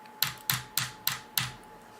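Mechanical keyboard with Gateron brown switches typed at a steady pace, five crisp, close key clacks evenly spaced over a quiet background.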